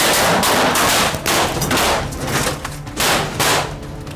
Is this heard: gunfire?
yes